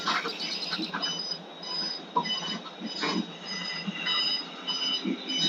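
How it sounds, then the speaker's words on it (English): An alarm in the video game Farming Simulator 22, a repeating high-pitched electronic tone pulsing over a rough, busy background, fairly loud and steady. "It's like an alarm."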